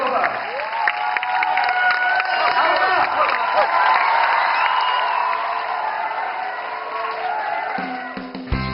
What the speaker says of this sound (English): have a big round of applause for all of us